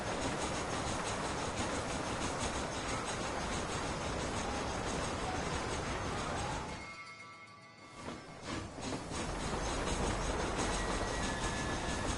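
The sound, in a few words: train moving in Red Dead Redemption video game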